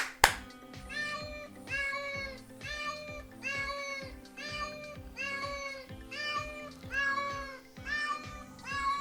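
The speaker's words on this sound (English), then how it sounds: "you could just go ahead and clap and your phone is going to sound a meow" A looping recorded cat meow plays over and over from a phone's clap-activated finder alert, each meow repeating in a steady rhythm above a low electronic hum, after a sharp clap.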